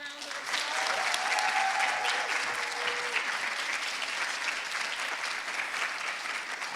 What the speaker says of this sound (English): Can we give all of our speakers one more round of applause?